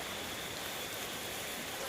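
Heavy rain falling outside, heard as a dense, unbroken wash of hissing noise at a low, steady level through the brief moment.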